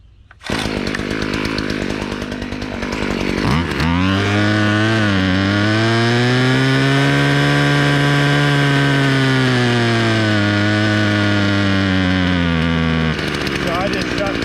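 A two-stroke engine runs steadily at high revs while its carburetor high-speed setting is tuned, the pitch rising and holding in a sustained buzzing whine, with a brief sputter early on before it settles.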